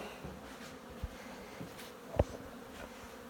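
Honey bees buzzing around a hive inside the walls of a house, a soft, faint drone of scattered insects with a few brief close passes and light knocks, no voices.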